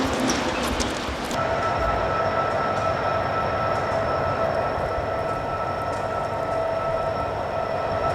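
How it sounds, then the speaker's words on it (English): A slow locomotive train crawls past close by, giving a steady loud rumble with a sustained horn-like tone. Clattering is heard at the start. "we just get honked at by some locomotive. It's absolutely crawling."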